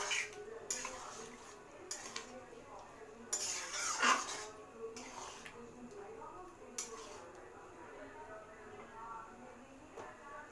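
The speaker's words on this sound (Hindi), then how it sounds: "अच्छे से मिला लें।" Fried prawns and parwal curry get stirred in a pan, with repeated close metallic scrapes and clanks of a spoon against the pan at an uneven rhythm, a voice talking quietly in between.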